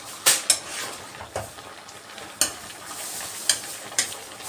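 A utensil scrapes and clanks against a pan while pinakbet vegetables are stirred over a low sizzle, with several sharp metallic knocks spaced irregularly and no talk.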